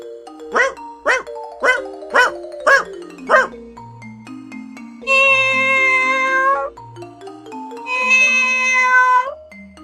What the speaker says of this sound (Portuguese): Já o miado é um som mais longo.